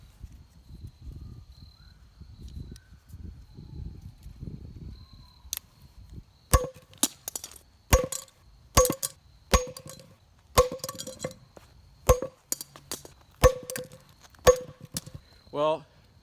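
A hammer strikes a Master padlock in a series of sharp metallic hits, roughly one per second and fairly loud, following a stretch of quiet handling noise at the start.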